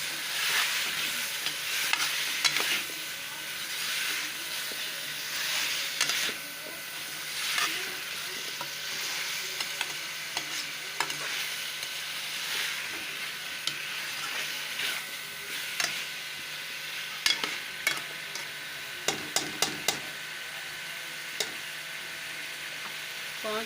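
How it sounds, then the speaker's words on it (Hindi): Chicken and half a kilo of potatoes frying for an aloo chicken curry, with a steady sizzle and scraping stirs that grow into several sharp clatters near the end, no voices present. "अब चिकन और आलू की भुनाई करती हूँ अच्छी तरह।"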